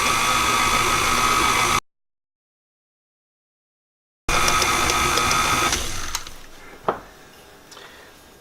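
An electric mixer runs on low speed through cookie dough for cranberry lemon sandwich cookies with a steady motor whir, then cuts out abruptly. When the whir resumes it fades, followed by a single sharp clack near the end.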